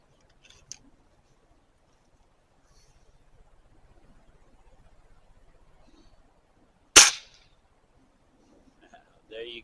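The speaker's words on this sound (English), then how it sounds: "The Gamma Varmint 177 caliber. Little kick-ass gun." Gamma Varmint .177 caliber air gun firing a single sharp shot that stands out loud and alone after a stretch of near silence, with faint background sound before it.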